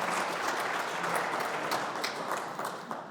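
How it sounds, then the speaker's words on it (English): Audience applause fills a town meeting hall about the Franklin Square theater project, a steady wash of many hands clapping that holds strong throughout and tapers slightly toward the end, with no talking over it. "Give him a round of applause."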